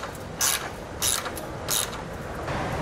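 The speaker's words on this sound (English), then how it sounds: "we can come back with a socket and just snug them down for now." A socket ratchet snugging base plate bolts while installing a Blue Ox base plate kit on a 2019 GMC Acadia, three short, loud clicking ratchet bursts about half a second apart, close and clear.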